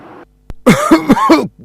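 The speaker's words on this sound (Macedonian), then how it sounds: "Кашлам, буфтаме веќе недела дена." A person coughs several times in a quick burst of harsh, close coughs, preceded by a brief vocal sound.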